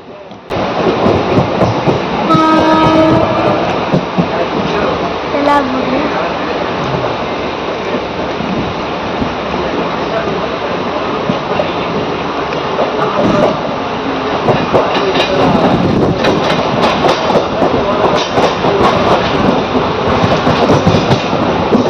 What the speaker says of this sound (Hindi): ये ट्रेन भी बहुत रफ्तार के साथ चलने लगी थी